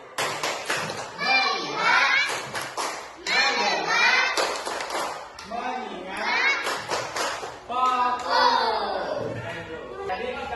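A group of schoolchildren in a classroom rhythm game claps hands in short bursts amid loud, lively chanting and chatter from the kids, the claps partly buried under their voices.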